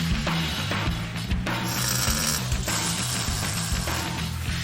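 Hydraulic beer-tub mechanism actuating on a custom International BBQ truck, giving a steady loud mechanical grinding and ratcheting with faint creaks. It runs continuously through the whole clip.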